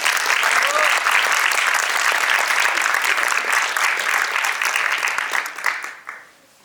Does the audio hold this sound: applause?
yes